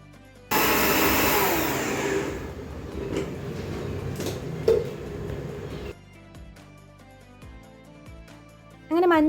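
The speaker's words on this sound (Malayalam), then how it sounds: "അതിനും കൂടി അങ്ങോട്ട് വേഗം പൊടിച്ചെടുക്കുകയാണ്." A mixer grinder powdering spice masala for mandi starts abruptly, roars loudly for about five seconds, then cuts off, leaving quieter kitchen clatter and a brief whir near the end.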